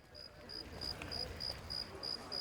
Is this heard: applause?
no